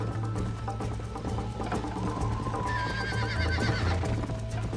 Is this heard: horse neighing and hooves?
yes